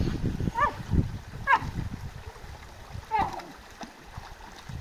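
A dog splashes and plays in a shallow mountain river at the source of the Neila in the Sierra de la Demanda, with splashes close by over the steady rush of flowing water and a few short sounds from the dog.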